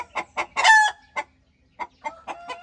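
Free-range chickens in a coop give several close, loud clucks and short squawks in uneven bursts, with a brief quiet gap before more clucking.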